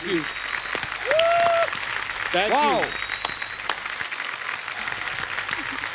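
Studio audience applause on a host's comedy show, a steady background of clapping while a voice exclaims in a rising tone and other voices speak over it.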